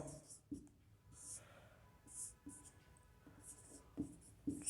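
Marker or chalk strokes on a classroom board during a political science lecture, a series of soft scratchy taps and squeaks at a moderate distance, fairly quiet, with faint room noise between strokes.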